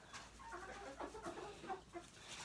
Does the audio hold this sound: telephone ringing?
no